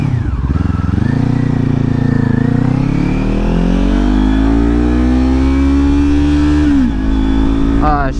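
A 2022 Kawasaki Ninja 400 motorcycle accelerates hard up through the gears, its loud close engine note rising steadily, dipping at a shift, then climbing again.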